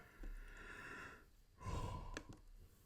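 A single long, breathy yawn close to the microphone, rising into a deeper exhaling stretch partway through, with no talk.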